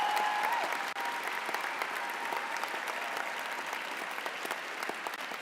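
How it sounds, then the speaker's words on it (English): Audience applause at a university convocation ceremony, a steady, sustained wash of many hands clapping in a large hall, even and continuous throughout with a brief dip near the start. "we're going to do another round of applause that's a little bit louder for all the people who've supported you"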